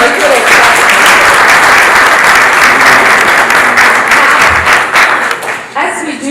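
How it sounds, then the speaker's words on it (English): A conference audience claps at length, loud and closely packed, then thins toward the end as the clapping trails off and voices start to come through. "Let's give them a little clap."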